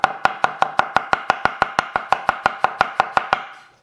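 A knife chops onion laid flat on a thin wooden cutting board in about sixteen crisp, evenly spaced knocks, close and clear with no talking, ending in a short fade.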